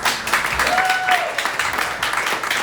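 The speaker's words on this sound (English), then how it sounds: "Give him a round of applause." Steady applause from an audience at a town hall meeting for a few seconds, with a faint voice over it.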